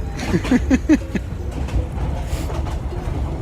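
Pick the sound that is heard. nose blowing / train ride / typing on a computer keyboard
train ride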